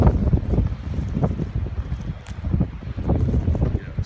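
Strong, blustery blizzard wind buffets the microphone during a Newfoundland storm, a loud steady roar with surging gusts and no voices.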